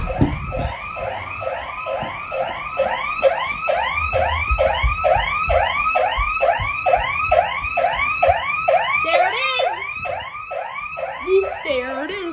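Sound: ADT SafeWatch Pro 3000 home security alarm siren

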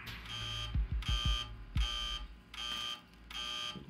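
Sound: buzzers sounding

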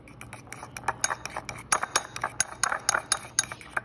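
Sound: stirring a honey face mask in a bowl

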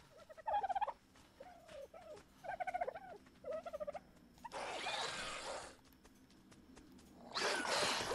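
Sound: turkey gobbling in ARK: Survival Evolved video game

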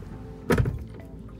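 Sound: Bentley Bentayga soft-close car door closing

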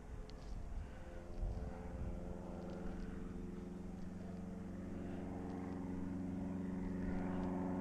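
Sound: airplane flying overhead

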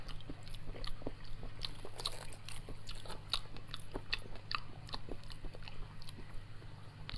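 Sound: eating langoustine (Norway lobster) seafood

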